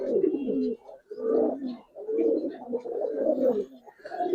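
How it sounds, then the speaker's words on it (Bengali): Giribaz pigeons, cream-colored Chura birds among them, coo in repeated low throaty phrases, close and clear, several bursts separated by brief pauses. "ক্রিম চুরা কবুতর"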